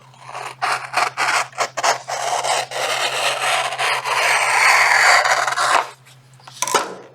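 Cutting strips of material apart to make springs, a near, loud run of rasping, scraping strokes that turns into a sustained scrape before a brief pause and a final rustle.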